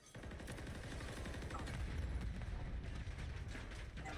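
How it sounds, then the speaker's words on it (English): Gunfire and explosions in a Call of Duty match crackle steadily, a dense, low rumbling barrage of rapid shots and blasts that runs without pause, faint in level and with no voices. "explosives, gunfire,"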